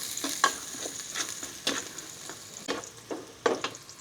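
Garlic sautéed in a pan for home cooking, a series of distinct stirring scrapes with soft sizzling underneath, spaced irregularly over a few seconds, close and moderately loud with no voices.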